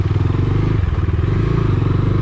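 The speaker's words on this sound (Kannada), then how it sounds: "so I am riding this Dominar 250" A Bajaj Dominar 250 motorcycle ridden along, its engine giving a loud, close, steady pulsing throb that shifts slightly in pitch, with no talk.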